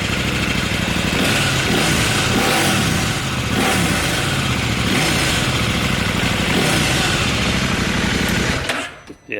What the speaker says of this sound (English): You get a little bit of exhaust note.